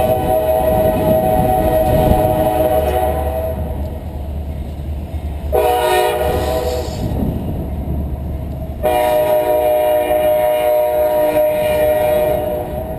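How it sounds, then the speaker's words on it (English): A train rumbles past nearby, loud and sustained, its horn blaring in long sustained blasts with a short break between them, over the heavy rolling rumble of the cars. "Bear with me with the train."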